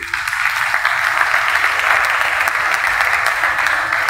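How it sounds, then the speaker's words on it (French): Sustained applause from a crowd at a festival opening, dense steady clapping that stays loud and even throughout with no voices on top. "Est-ce qu'on peut encore applaudir?"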